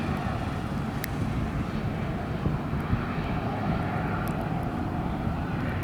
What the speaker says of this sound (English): And there goes American Airlines going high up in the air.